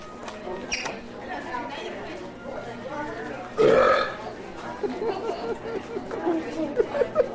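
A man lets out one loud, throaty burp in the middle of lively studio chatter, as several people talk and laugh around it.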